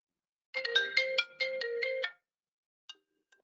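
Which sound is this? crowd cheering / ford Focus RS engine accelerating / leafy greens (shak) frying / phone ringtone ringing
phone ringtone ringing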